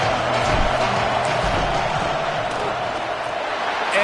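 Dense, sustained roar of a stadium crowd during a football field goal attempt, loud and steady throughout, with speech likely mixed into the noise.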